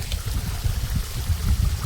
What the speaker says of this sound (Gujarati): કેવું પાણી ચાલી રહ્યું છે આમ બધું જાય છે.